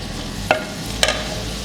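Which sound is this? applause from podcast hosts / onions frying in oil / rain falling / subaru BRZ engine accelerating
onions frying in oil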